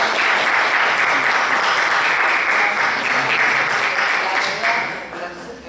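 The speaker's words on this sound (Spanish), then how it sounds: "yo pido un aplauso" Dense, loud applause fills the room from an audience at a talk on international environmental negotiation, steady sustained clapping that tapers slightly toward the end.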